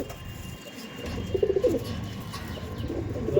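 Madrasi pigeons, tournament-quality birds kept for sale, coo softly in a short low burst near the middle, over a steady background murmur with faint chirps.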